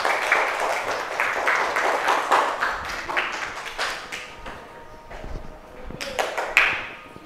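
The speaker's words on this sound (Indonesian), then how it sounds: "Tepuk tangan untuk kelompok 1." A sixth-grade class claps for a group after its presentation, uneven, close applause in loose bursts that thins out toward the end, punctuated by a few sharp taps.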